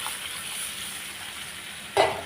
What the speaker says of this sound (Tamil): அதை ஊற்றிடலாம். ஊற்றிட்டு ஒரு கிளறிடுவோம்.